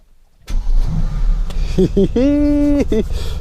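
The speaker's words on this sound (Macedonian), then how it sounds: "И може да го стартуваме и полека да почнеме да го возиме." A Mercedes AMG GT S engine cranks and fires with a sudden loud roar, settling into a deep rumbling idle with sharp revs rising and falling; a person speaks over it.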